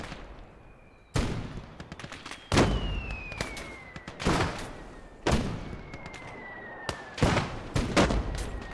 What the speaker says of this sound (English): we're gonna saturate this area with some mortar fire here